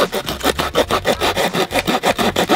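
A folding camp hand saw cuts through firewood in quick, regular back-and-forth strokes, loud and close, about a dozen rasping pulls with no talking.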